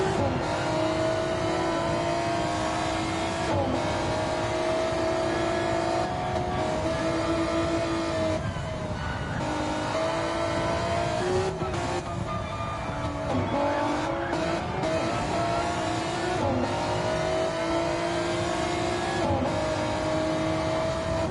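Race car engines howl steadily during an overtake in Gran Turismo, with sustained high revs, shifting pitch through gear changes and faint tire squeal, loud and continuous with no talking.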